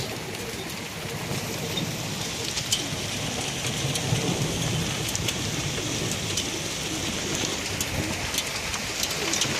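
Hailstones pelt an upland meadow in a constant, close clatter of tiny impacts, with sharper individual ticks popping out of the steady wash and no voices.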